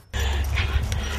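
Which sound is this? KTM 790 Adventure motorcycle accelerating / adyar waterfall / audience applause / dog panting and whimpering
dog panting and whimpering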